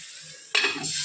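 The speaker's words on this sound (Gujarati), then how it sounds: "ફૂલ તેલ ગરમ હોય ને ત્યારે આપણે ડુંગળીને એડ કરવાની છે" Chopped onion hits hot oil in a pan for a Punjabi-style curry gravy, bursting into a sudden loud sizzle halfway through after a quiet, steady hiss, then frying on busily to the end.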